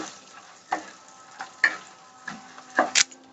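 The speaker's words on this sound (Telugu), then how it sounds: "కొబ్బరి ముక్కలు లాస్ట్లో వేసుకోవాలి, తొందరగా మాడిపోతాయి ఎండు కొబ్బరి కాబట్టి" Dry coconut pieces frying in a pan for a puffed rice mixture, a soft steady sizzle broken by irregular crackles and small pops, fairly close, with no talk.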